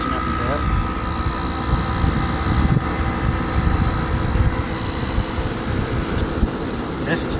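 A 2006 Kenmore 12,000 BTU air conditioner running on its low fan setting gives a steady, close, broadband whir and hum that stays constant throughout, with a faint voice at times.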